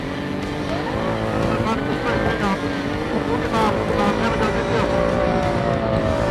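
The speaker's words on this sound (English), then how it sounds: "The Can-Am Maverick Turbo may be slow to take off, but they have no problems passing other teams" A Can-Am Maverick Turbo off-road vehicle races in the Vegas to Reno desert event, its engine a loud, steady, rising whine and roar that holds close throughout, with speech riding over the top.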